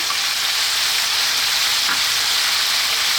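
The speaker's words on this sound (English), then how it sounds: "Next up, I'm going to drop in the onion. I'm using the red onion, as you can see." Chopped red onion dropped into hot oil for a Greek lamb stew, giving a loud, even, hissing sizzle close up for a few seconds, with no speech.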